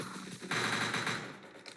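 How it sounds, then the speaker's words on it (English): Gunfire from the video game Entry Point comes as a short burst of rapid automatic shots, dense and crackling, loud and close for about a second before tapering off. "presumably, Cyber did shoot at those units"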